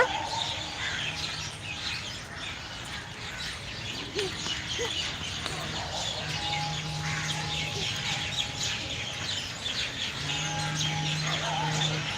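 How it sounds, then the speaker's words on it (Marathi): Many small birds chirp and twitter continuously in trees at Dhayreshwar temple, Dhayari, Pune, amid a dense outdoor background, with a low hum and faint voices underneath. "माझा आवाजच येणार नाही तुम्हाला अजिबात इतके पक्षी आहेत"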